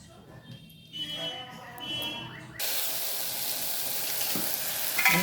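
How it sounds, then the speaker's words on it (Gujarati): Green garlic sautéing in a pan as part of a Gujarati green pigeon pea dish: a loud, steady sizzle starts abruptly partway through and holds, with faint kitchen noise before it. "આ લસણ લીલું લસણ છે એને આપણે સાતડી દઈશું"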